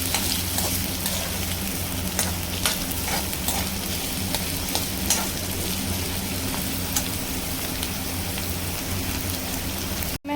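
Chopped onion fries in oil in a pan for turai (ridge gourd) sabzi, a steady close sizzle and crackle with occasional stirring scrapes throughout.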